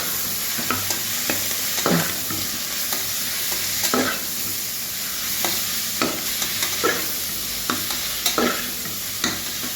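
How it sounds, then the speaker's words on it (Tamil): Onion, mint, green chili and ginger-garlic paste sauté in a pan for road-side vada curry, a continuous loud sizzle broken by repeated scraping strokes of a spoon stirring, close up and with no talking. "புதினா, பச்சை மிளகாய், இஞ்சி பூண்டு விழுது போட்டு நல்லா வதக்கணும்."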